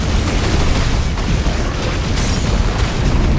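A fire spell explosion in Final Fantasy XVI: a loud, dense, sustained roaring blast that fills the whole moment with heavy low rumble and hiss, no talk over it.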